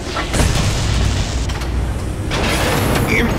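A radome blown up in the Metal Gear Solid video game: a loud, sustained explosive boom with rumbling debris and mechanical clatter that swells again near the end, heard alone without voices.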